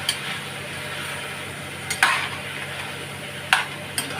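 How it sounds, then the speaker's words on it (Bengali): Vegetables with tomato and a pinch of turmeric sautéing in a pan, a soft continuous sizzle broken by a few sharp clicks of a spatula against the pan. "সামান্য একটু হলুদ দিলাম, দিয়ে ভালো করে কষাবো"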